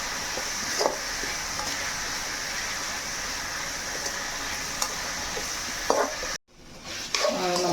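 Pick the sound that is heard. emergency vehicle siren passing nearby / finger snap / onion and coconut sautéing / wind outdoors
onion and coconut sautéing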